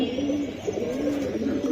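Large silver pigeons give low, throaty coos in a soft, continuous rolling murmur, close by and with no voices over them.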